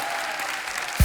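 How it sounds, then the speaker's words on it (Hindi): Studio audience applauding guests on a comedy talk show, a brief, dense wash of clapping with a low thump near the end. "एक बार जोरदार तालियां हमारे मेहमानों के लिए"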